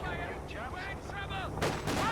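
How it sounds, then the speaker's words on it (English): Artillery shells from a concentration barrage boom and crack in a Company of Heroes 2 match, a steady rumbling battle bed with whistling rounds and two louder blasts near the end. "Bring down some concentration barrage action here."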